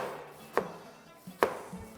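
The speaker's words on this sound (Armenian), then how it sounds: "Ըստ նախասիրությունների ավելի մանր կարելի է կտրատել։" A knife chopping vegetables finely on a board, two distinct sharp chops about a second apart, close and clear in a quiet kitchen.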